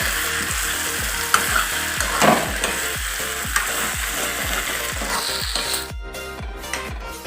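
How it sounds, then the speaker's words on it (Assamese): Taro pieces frying and being stirred in a pan of lentils for a taro and black pepper curry: a steady sizzle runs throughout, cut by a regular rhythm of scraping stir strokes, close and loud. "অলপ সময় ভাজিব লাগিব।"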